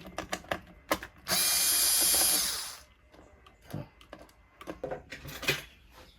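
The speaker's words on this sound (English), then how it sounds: "there's one more screw there, as you guys can see from there. So we'll take that one out too." A screw being removed from a Dyson vacuum roller head with a power driver: a single whirring burst of about a second and a half, close up, surrounded by small clicks and plastic handling noises.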